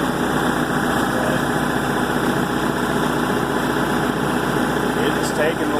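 An MEP-802a military diesel generator runs steadily under load, a loud constant engine drone with a low throbbing rumble and no change in pace.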